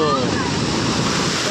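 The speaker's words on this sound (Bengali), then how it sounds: "গাইস, ঢেউটা আসতে দেখো" Sea waves breaking on the beach at Digha make a steady, loud wash of surf with wind noise across the microphone, close by and continuous.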